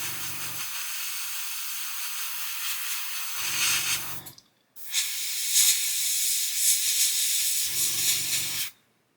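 An airbrush blowing plain air over a 1/48 Airfix Sea King model kit, a steady close hiss running in two long bursts with a brief stop between them.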